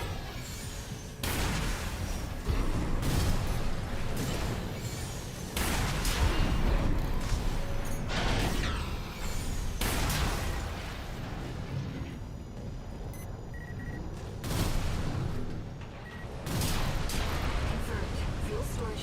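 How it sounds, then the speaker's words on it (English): Fuel storage tanks in a video game blown apart by gunfire, with repeated heavy booms and rumbling blasts in bursts and brief lulls between them. "Confirmed. Fuel storage tank destroyed."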